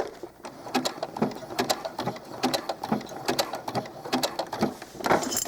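A sewing machine runs in short repeated bursts of rapid needle clatter while stitching small doll clothes up to a seam, close and fairly quiet, with brief pauses between runs.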